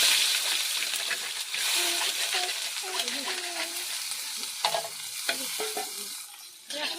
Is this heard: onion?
yes